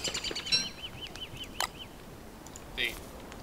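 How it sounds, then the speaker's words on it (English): Birds in the video game Don't Starve chirp in a quick series of short repeated calls, followed by a couple of sharper squawks, fairly close and moderately loud. "All these birds!"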